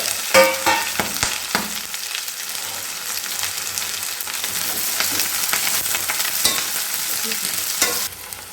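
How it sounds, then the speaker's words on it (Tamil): Shallots, large onions, green chillies and curry leaves sauté together in a pan for a fish curry. A loud, steady sizzle runs throughout, with sharp stirring clatters near the start. "சின்ன வெங்காயம், இந்த பெரிய வெங்காயம் எல்லாம் ஒன்றா சேர்த்து நம்ம வதக்கிக்கலாம்."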